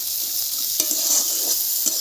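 Finely chopped onions with salt and chilli powder fry in a pan, giving a steady, bright sizzle broken by a couple of stirring scrapes.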